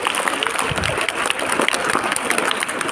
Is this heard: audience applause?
yes